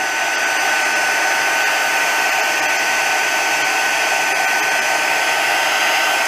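A heat tool melts white embossing powder with a steady, loud, close whir of blowing hot air that holds constant throughout.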